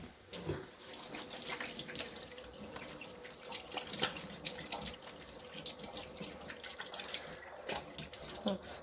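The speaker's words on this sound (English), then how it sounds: "I'm going to rinse my hands off" Water running steadily from a kitchen tap while hands are rinsed under it, a close, continuous splashing gush with small irregular knocks and sloshes from the sink.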